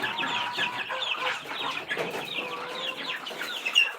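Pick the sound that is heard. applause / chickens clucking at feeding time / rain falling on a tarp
chickens clucking at feeding time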